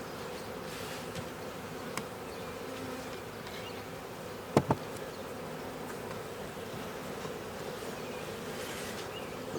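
Honey bees buzz in a continuous, quiet drone at an open hive, with a couple of sharp clicks partway through.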